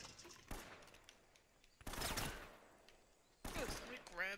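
Three separate bursts of gunfire in an Uncharted game firefight, each a short, loud crackling volley with quieter gaps between them.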